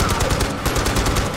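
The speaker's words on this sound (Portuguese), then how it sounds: "O tiro penteou o cara" Rapid gunfire in the video game Far Cry 4, dense bursts of shots crackling close and loud across the whole moment with no pause.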